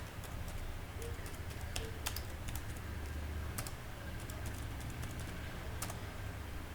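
Keys clatter on a computer keyboard as a caption is typed, producing quiet, irregular clicks in short bursts over a low background hum.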